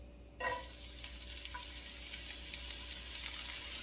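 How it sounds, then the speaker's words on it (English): A sudden sizzle as dried garlic and chives hit a hot pan, then a steady close frying hiss with faint crackles and little splattering; no voices. "So you can hear the sizzle, but the splattering is at a minimum because we had dried everything."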